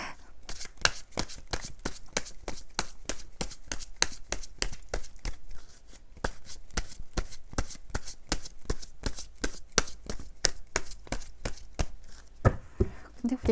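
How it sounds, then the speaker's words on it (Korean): Tarot cards are shuffled in a long run of rapid, crisp riffling slaps at close range, each flick sharp and evenly spaced, with brief pauses and a few softer taps near the end. "제가 추가 카드 먼저 뽑고 말씀드릴 거예요."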